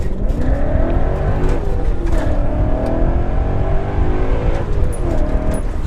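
A BMW E39 M5 fitted with an ESS VT560 supercharger kit accelerates hard, heard from inside the car as a loud, continuous engine roar with rising pitch sweeps through the gears.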